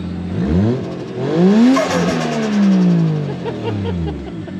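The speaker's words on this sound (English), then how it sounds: "Don't rev it anymore. We got neighbours." A Toyota JZX100 Mark II engine revs up three times in a row, each swell climbing then falling back toward idle, loud and nearby, in a residential setting.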